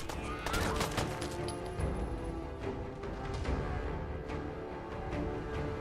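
Rapid gunfire from a multiplayer video game, dense bursts of shots layered over constant game noise, loud and continuous throughout with no clear pauses.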